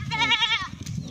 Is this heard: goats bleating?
yes